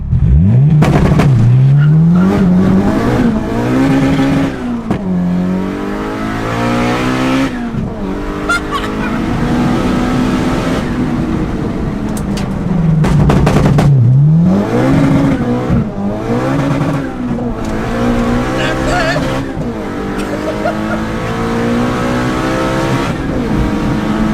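A turbocharged Honda Civic with VTEC revs hard on launch control, its engine note climbing and falling in repeated loud sweeps, close and continuous with no talking.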